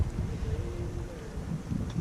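Wind gusts buffet the microphone on a remote river bank in a low, steady rumble, with a faint whistling tone drifting through the middle.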